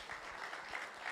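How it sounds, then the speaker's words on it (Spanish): A church congregation applauds a newly presented child, steady broadband clapping filling the short moment at moderate distance without a break. "Denle un aplauso al nuevo"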